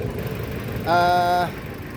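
A 2015 Toyota Avanza 1.3 G manual, 1300 cc four-cylinder with rear-wheel drive, idles steadily with the hood open, heard up close. A brief tonal whine rises over the hum midway.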